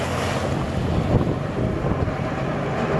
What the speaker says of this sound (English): Wind is gusting pretty high